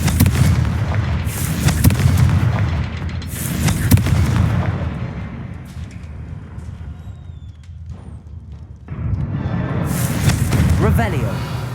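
Fiery Confringo spell blasts in Hogwarts Legacy, several loud booming explosions in bursts with crackling tails and a quieter gap between them.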